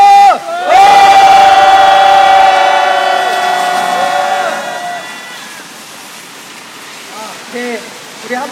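A crowd at a rainy outdoor protest press conference lets out one loud, sustained collective shout that rises sharply, holds for several seconds, then tapers off into fainter scattered voices.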